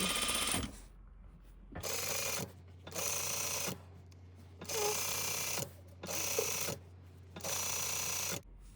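Sewing machine running a single roll-up stitch hem, near and steady, in five bursts of several seconds each separated by short pauses, with faint mechanical clicks between runs.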